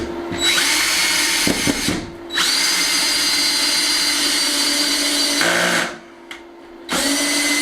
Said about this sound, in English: Now we can screw this to the base and then screw the pump to this